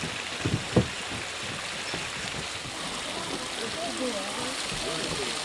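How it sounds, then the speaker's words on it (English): Water cascading down mineral-laden thermal pools at Yellowstone, a steady broad wash of running water heard at moderate distance, with a couple of brief knocks early on and faint voices murmuring underneath. "it creates these pools where the water cascades down"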